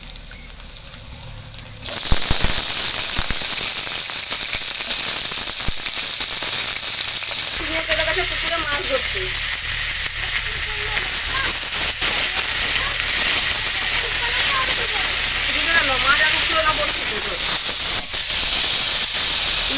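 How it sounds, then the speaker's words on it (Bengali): Onion and green chilli sizzling in hot oil in a pan as potato and tomato go in, a loud steady hiss that jumps up after a quiet opening and carries on, with faint crackles and a voice talking underneath. "এই তেলের মধ্যে দিয়ে দেবো লঙ্কা পেঁয়াজ হালকা ভাজা ভাজা করে নিয়েছি এবার এর মধ্যে আমি আলু আর টমেটো দিয়ে দেবো"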